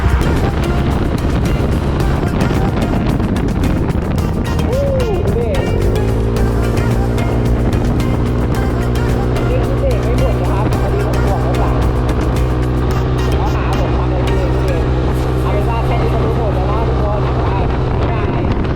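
A Honda Forza 300-350 scooter fitted with Kamui brake discs rides at speed during a braking test, steady engine drone and wind buffeting throughout, the pitch shifting as it slows and then settling into an even hum.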